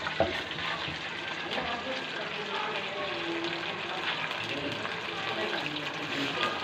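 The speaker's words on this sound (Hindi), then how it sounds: "अब इसके अंदर हम 1 टेबल स्पून ज़ीरे का डालेंगे और इसको 2 से 3 मिनट तक इसको भून लेंगे" Cumin seeds frying in hot oil in a karahi for mutton karahi, a steady soft crackle and sizzle running throughout at low level, with a person talking over it.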